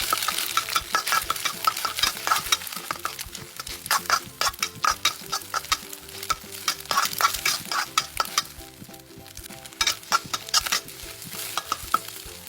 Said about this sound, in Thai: จากนั้นก็ใส่ไข่ไก่ลงไป ผัดไข่ให้สุก